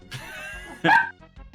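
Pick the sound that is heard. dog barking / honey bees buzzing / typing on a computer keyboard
dog barking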